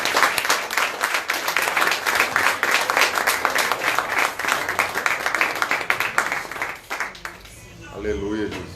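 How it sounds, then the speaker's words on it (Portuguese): Church congregation applauding, with dense sustained clapping that fills most of the stretch before fading out, then a voice speaking briefly at the end. "Aplauda o Senhor"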